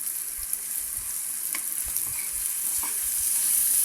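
Shrimp sautéing with garlic in butter in a pan, a steady bright sizzle and fry with faint stirring scrapes, close and continuous.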